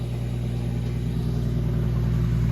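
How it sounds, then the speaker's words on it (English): A neighbour's car passes nearby in a steady, loud engine rumble with a low drone that swells slightly, no voices over it. "Got a neighbour driving by."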